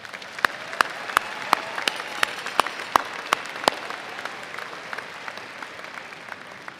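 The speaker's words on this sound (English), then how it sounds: "Please give these individuals a round of applause." Applause from a large audience at a spring university commencement ceremony, a broad, steady roar of clapping punctuated by regular sharp claps from someone close by, sustained for several seconds and fading slightly.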